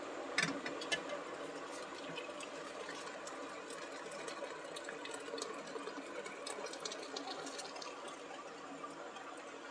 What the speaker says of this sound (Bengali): দেখো ছানাটা আমি ছেঁকে নিচ্ছি।